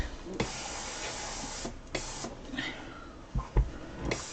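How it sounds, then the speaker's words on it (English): An iron pressing fabric while making a pillow, giving a steady breathy hiss of steam with a few soft thumps and shifts as it is moved, close and alone. "I'm going to iron it a little bit because I did wrinkle it up while I was rolling it"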